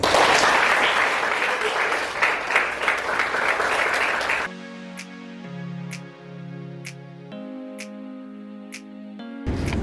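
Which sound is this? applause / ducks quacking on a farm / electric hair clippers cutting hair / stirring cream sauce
applause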